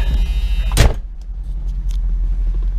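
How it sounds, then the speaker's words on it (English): The heavy door of a 1973 Lincoln Continental Mark IV slams shut once with a single loud, close thump. A low, steady rumble hums before and after it. "Close the door here."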